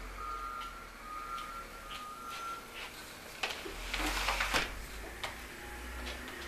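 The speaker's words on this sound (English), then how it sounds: "Trash trucks coming by." A garbage truck passes by outdoors, its reversing alarm giving a few spaced, steady electronic beeps, with a louder burst of engine and mechanical noise near the middle of the pass.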